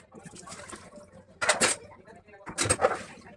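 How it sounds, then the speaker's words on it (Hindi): Dishes, pots and pans are washed in a home kitchen, with two bursts of clattering metal and running water close by, under someone talking. "तो अभी साथ साथ मैं बर्तन भी वॉश कर रही थी।"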